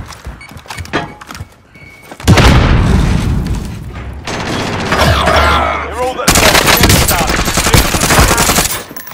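Gunfire in a PlayStation 4 video game, with loud bursts of automatic fire and heavy thuds that come in waves, separated by brief lulls, close and dominant.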